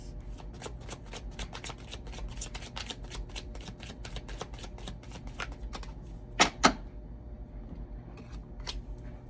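Love oracle cards are shuffled by hand in rapid, crisp riffling flicks, close and continuous, with a couple of sharper snaps near the end.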